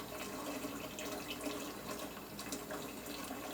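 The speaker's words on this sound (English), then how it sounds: "Just fill the pot about halfway with water." A kitchen tap runs steadily into a pot being filled halfway with water, a constant close hiss and splash with no talk.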